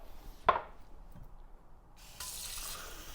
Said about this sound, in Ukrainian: І набираємо воду з крану.